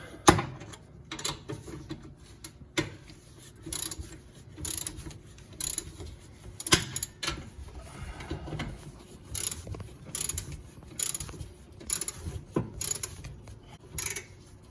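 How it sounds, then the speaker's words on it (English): A torque wrench tightening bolts in a crisscross pattern on a 6-inch lift kit for a 1997 Rockwood Freedom camper, giving repeated ratcheting clicks in short bursts with metallic knocks between them, close up. "So I'm gonna torque these in a crisscross pattern."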